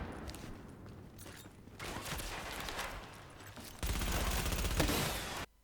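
Grenade blasts and rapid gunfire in the video game The Division, dense bursts of shooting that swell into a loud, sustained roar of fire before cutting off abruptly.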